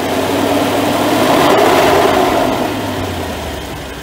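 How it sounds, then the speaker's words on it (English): A Mercedes G-Wagon engine with a suspected faulty voltage regulator, charging at only 10 volts, revved by hand from the engine bay, a loud close rumble that swells to a peak midway and then eases back down. "I'm gonna rev the engine by hand."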